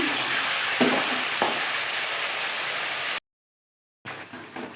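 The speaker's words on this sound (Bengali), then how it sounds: "মাংসগুলো একটু ফ্রাই করে নিচ্ছি।" Meat frying in a pan with butter chicken masala, a steady loud sizzle and crackle with a couple of stir scrapes, then a brief cut to silence before the sizzle resumes.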